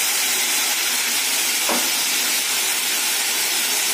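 Sizzling as ginger-garlic spice paste hits onions frying in a pan for Bengali chicken kosha, a steady hiss with one brief louder burst, no talk.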